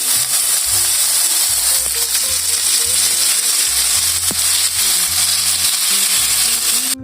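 Blue shark fillet frying in a pan, a loud, steady close-up sizzle and hiss with crackling spatters and a sharp pop partway through.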